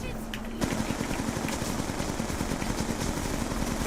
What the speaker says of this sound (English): just gonna shoot into these guys massively